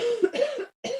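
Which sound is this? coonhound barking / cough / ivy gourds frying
cough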